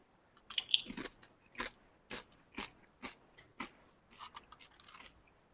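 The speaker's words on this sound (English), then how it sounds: "I'm eating chips on a live stream" Potato chips crunch close to the mic as someone eats, about eight distinct crisp bites and chews spaced roughly half a second apart in a quiet room.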